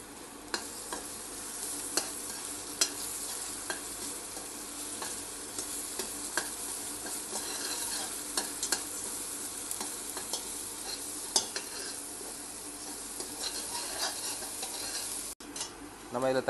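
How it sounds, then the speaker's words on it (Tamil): Onion, ginger and garlic sautéing in a pan for an Arabian shawarma, a steady sizzle with scraping stir strokes and occasional utensil clicks running throughout at a moderate level. "இஞ்சி பூண்டு பச்சை வாசனை போகிற வரைக்கும் நல்லா வதக்கிக்கலாம்."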